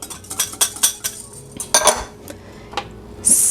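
Brown sugar and cornstarch stirred together in a bowl, giving a series of sharp utensil clinks and scrapes against the bowl at an irregular rhythm, close and fairly loud with brief pauses between strokes.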